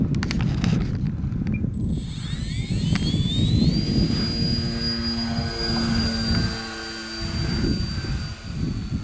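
A vintage Scorpio Miss Bipe RC biplane with a 1.08 m wingspan flies in windy conditions on its maiden flight, its small engine whining from a distance and shifting in pitch as it passes, over wind noise.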